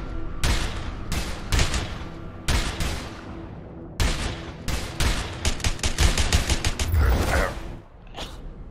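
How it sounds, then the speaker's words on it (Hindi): Gunfire in the video game A Way Out: repeated sharp shots and bursts, some in rapid clusters, loud and close throughout, with a denser volley near the end. "Shot dekha kya gardan pe jo padi hui part se."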